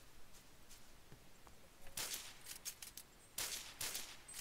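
Faint bursts of automatic gunfire from the Roblox shooter Phantom Forces, quick clustered shots rising in the second half, sounding distant and low in level.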